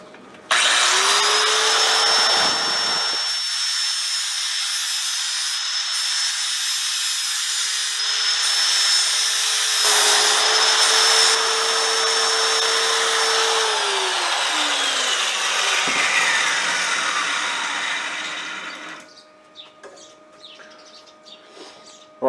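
A lawn mower blade is sharpened with a power tool, likely a grinder, producing a loud sustained high-pitched whine with a steady tonal pitch that drops briefly near the start, then spins down and fades away toward the end.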